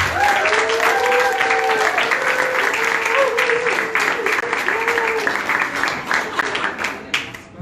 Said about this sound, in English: I'd like to hear a round of applause for all of our women here tonight.